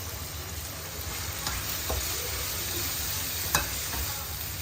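Steady sizzling and hissing of red snapper frying in a wok over high heat, with occasional clatters of a utensil against the pan.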